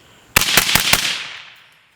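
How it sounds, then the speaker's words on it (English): A rifle fitted with a Geissele Airborne charging handle firing a rapid string of four close, loud shots that run together, with the echo slowly fading afterward. "Let's do a quick burn down the rest of this ammo and see."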